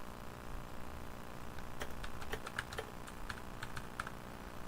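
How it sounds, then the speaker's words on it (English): Typing on a computer keyboard during a live fantasy gamebook session, sharp clicky keystrokes coming in quick irregular bursts over a steady low room hum, close to the microphone, with no talk. "I'm just gonna be typing away here"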